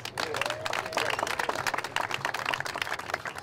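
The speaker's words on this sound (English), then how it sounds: "Give them a round of applause." An outdoor crowd at a community park opening applauds the parks and recreation department team, a moderate, fairly distant patter of clapping with light crowd murmur underneath.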